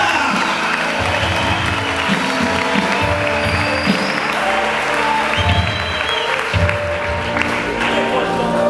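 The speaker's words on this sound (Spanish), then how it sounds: "Dele fuerte el aplauso, dele fuerte alabanza." Loud, sustained applause from a church congregation at a spiritual vigil service, with thick, continuous clapping over a steady low instrumental rumble that lasts the whole stretch.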